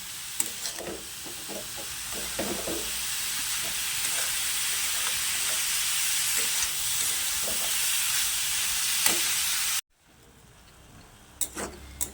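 Beetroot, carrot and potato sautéing with salt in a pan make a steady sizzle with scattered stirring scrapes, then cut off abruptly to a quieter stretch with a few clicks.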